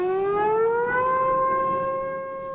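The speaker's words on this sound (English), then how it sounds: "Warning sirens echoed through coastal cities" Civil defense warning sirens wailing across a coastal city during a tsunami alert after high waves struck Japan's Pacific coast, a loud, steady rising tone with overtones that sweeps slowly upward and then eases off slightly.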